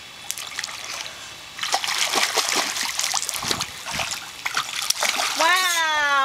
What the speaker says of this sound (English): Show me how you swim underwater.